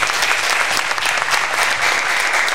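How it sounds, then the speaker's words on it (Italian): An audience breaking into applause, dense continuous clapping that stays loud and even from start to finish, close and without voices. "Io gli farei un grandissimo applauso a tutti quanti, un applauso per loro più che altro."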